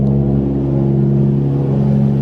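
A Toyota Supra engine idling as it warms up, a steady close low hum with a smooth, even drone throughout, no talk.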